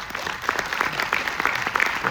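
An audience at a special cinema screening in Paris claps steadily, a dense patter of applause that stays fairly loud and even throughout, with no voices on top.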